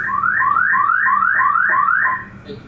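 An alarm tone played at a fire commission meeting, six rising electronic whoops repeating in a quick regular rhythm, loud and clear, then stopping abruptly before a short faint tone.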